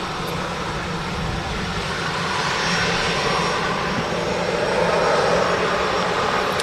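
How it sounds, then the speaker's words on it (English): An EasyJet jet airliner arrives at Manchester Airport, its engine roar a steady broadband rumble that swells slightly as it nears, with no talk. "Another EasyJet next in."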